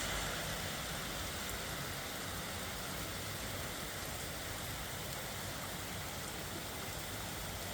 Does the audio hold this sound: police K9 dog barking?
no